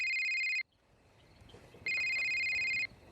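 A mobile phone rings with an electronic ringtone for an incoming call, sounding in two loud bursts separated by a short quiet gap, close by and with no voices.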